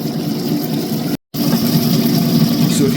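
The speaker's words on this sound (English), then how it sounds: "I swapped pulleys on my machine to increase the RPMs, and that has given it enough centrifugal force to lock this down" A lapidary polishing machine with swapped pulleys runs at higher RPM, its belt and wheel producing a steady close whir and hum, briefly cut out once before resuming.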